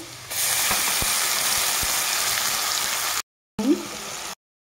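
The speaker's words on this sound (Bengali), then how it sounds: "আর এখানে আমি পেঁয়াজটা ভাজা হয়ে গেছে, দিয়ে দিব আমি করে রাখা মশলাটা" Spice paste hits fried onions in a hot pan while cooking a potato and red lentil dish: a loud, steady sizzle, a brief pause, then a short renewed burst of frying.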